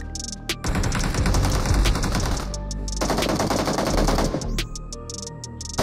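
Sniper rifle gunfire in the mobile shooter PUBG Mobile, heard as two long stretches of loud, rapid, overlapping shots separated by a brief lull, with sharp isolated cracks at the edges and no talk.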